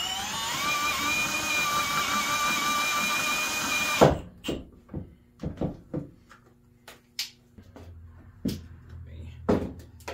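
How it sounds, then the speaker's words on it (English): A power drill whines steadily as it bores through metal during an LS swap fuel system install, followed by scattered clicks and knocks of tools being handled nearby. "I'm just gonna end up drilling all the way through this anyway."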